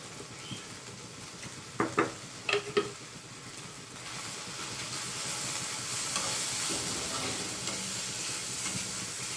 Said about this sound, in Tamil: அந்த மிளகாய் பொடியோட லைட்டாக எண்ணெயில் அப்படியே சும்மா ஒரு ரெண்டு நிமிஷம் அப்படியே ஃப்ரை பண்ணிவிட்டு